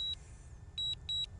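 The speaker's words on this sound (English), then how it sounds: "when I hold that, you'll hit it and hold it, you'll hear it start beeping" DJI Mavic Mini drone controller sounding its return-to-home alert: a clear electronic beep followed by a pair of double beeps in quick rhythm over a faint low hum.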